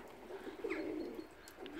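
Racing pigeons give soft, low cooing calls, faint and a little distant over quiet outdoor ambience, repeating a few times in a short burst.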